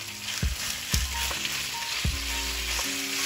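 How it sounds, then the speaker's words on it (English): Chicken pieces for kung pao chicken sizzle and crackle steadily in a hot pan, with occasional soft thumps and scrapes of stirring under the constant frying hiss. "The pan is nice and hot. You can hear the sizzle."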